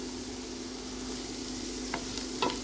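Garlic and freshly added carrot fry in a pot for chicken macaroni soup, a soft, steady low sizzle with a couple of faint stirring taps near the end.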